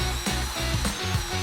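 A giraffe-style long-reach drywall sander with a 225 mm circular pad runs steadily up close on a ceiling, its motor drone and pad whir continuous with small surges.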